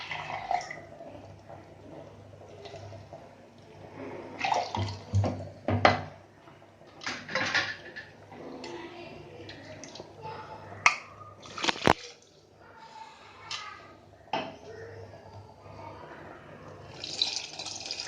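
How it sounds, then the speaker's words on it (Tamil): Water splashes and sloshes in uneven bursts as it is poured and swirled in a mixer jar to rinse out ginger-garlic paste, with clinks and knocks in between. "இந்த மிக்ஸி ஜாரில் உள்ள இஞ்சி பூண்டு வேஸ்ட் ஆக்காமல் நம்ம அதில் தண்ணி ஊற்றி அலம்பி விட்டுருவோம்"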